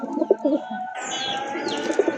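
A pair of healthy breeding pigeons coo in short, close throaty bursts, with a brighter chirping twitter rising partway through and the cooing returning near the end.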